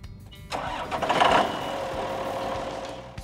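A tractor engine cranks and catches, then settles into a steady, fairly loud idle that holds up close for several seconds before easing slightly.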